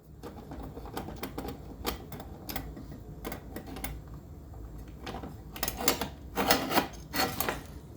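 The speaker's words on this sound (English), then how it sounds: "I'm going to go ahead and remove the screws." A small screwdriver works screws out of an EST Genesis speaker strobe, giving close, irregular clicks and scraping ticks that grow busier and louder toward the end.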